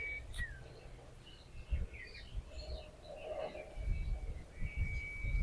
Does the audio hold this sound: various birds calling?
yes